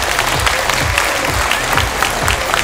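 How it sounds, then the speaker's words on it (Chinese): Dense, steady audience applause fills a singing contest final hall, a continuous wash of many hands clapping at close range. "把掌声其实再次送给他们两位"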